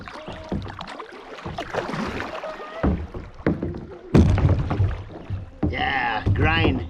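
Kayak hull scraping and grinding over a log in a shallow stretch of the Black River in Gogebic County, with loud bumps and rasping scrapes mixed with splashing water as people talk and shout nearby.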